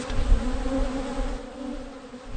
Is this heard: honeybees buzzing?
yes